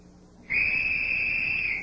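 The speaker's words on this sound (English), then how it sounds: "That's the opening whistle." A sharp, shrill opening whistle blast on the quiz show General Electric College Bowl starts abruptly and holds steadily for over a second before fading slightly at the end.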